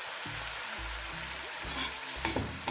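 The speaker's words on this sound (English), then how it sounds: "Let's saute these vegetables." Vegetables sautéing slowly in a pot that is not fully hot, a soft continuous sizzle with stirring scrapes and a couple of light clinks toward the end.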